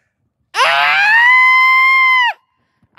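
A person lets out a single loud, sustained scream for scream therapy, rising sharply then holding steady for nearly two seconds before cutting off, close and alone.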